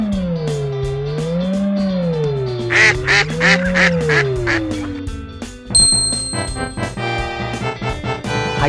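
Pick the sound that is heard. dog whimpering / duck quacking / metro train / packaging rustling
duck quacking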